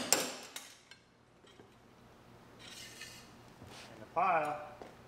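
A hammer strikes a rusty car frame rail piece from a 1965 vehicle, with a few quick metallic hits at the start, then quieter scraping and a brief rasping clatter near the end.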